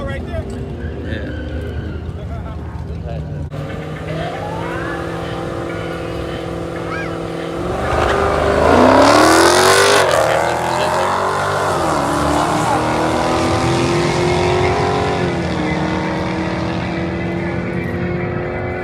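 A 2018 Dodge Scat Pack and a Whipple-supercharged 5.7 launch side by side in a quarter-mile grudge race, engines droning, then surging loud around the launch and holding a steady roar as the cars pull away, with crowd chatter underneath.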